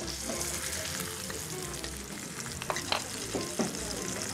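Sesame-crusted ahi tuna searing in a hot pan, a dense continuous sizzle heard up close, with a few sharper pops and utensil taps toward the end and no speech.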